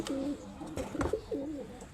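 Domestic pigeons coo in a close, steady run of soft, throaty phrases repeating over about two seconds, with no talking.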